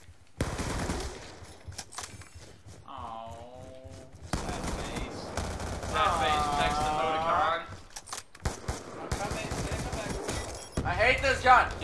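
Automatic gunfire rattles in rapid bursts during a Black Ops 2 match, repeated throughout and loud. Excited players talk and shout over the shooting.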